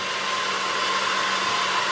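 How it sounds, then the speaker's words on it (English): A Dyson vacuum cleaner runs steadily at close range, a loud, unbroken motor whoosh with a high whine and no pauses or voices. "And now I'm vacuuming with my Dyson vacuum."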